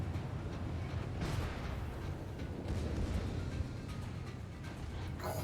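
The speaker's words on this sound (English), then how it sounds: "That's a lot of scary torpedoes." Torpedo explosions in a naval video game make a dense, continuous rumbling roar with a couple of sharper bursts, loud and sustained throughout.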